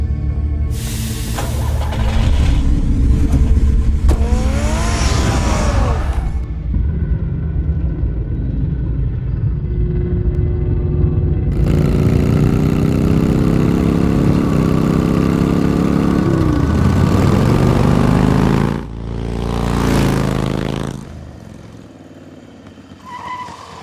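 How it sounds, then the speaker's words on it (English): A car engine in Batman: The Telltale Series revs and drives, with loud roaring surges, shifting pitch sweeps and a long sustained drone that cuts off near the end before a quieter idle, with no speech. "Get the car ready, Alfred."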